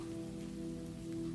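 Steady rain falls on a surface during a quiet night, a soft continuous wash with a low hum underneath, even and unbroken throughout.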